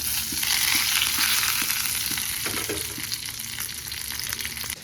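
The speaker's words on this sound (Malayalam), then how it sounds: "ഓൾറെഡി ഞാൻ വെളിച്ചെണ്ണയിലേക്ക് കടുകെടുക്കണം ഇനി വറ്റൽമുളകും കറിവേപ്പിലയും കൂടി" Mustard seeds sizzling and spluttering in hot coconut oil, a loud, steady, close frying hiss with faint pops throughout, no voices.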